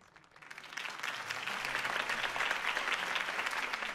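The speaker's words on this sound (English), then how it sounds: "If only Mr. Wayne, my campaign's largest backer, could have heard that applause" Crowd applause after a campaign speech in a Batman video game, rising from quiet into a broad, sustained roar of many hands clapping that holds steady and fairly loud to the end.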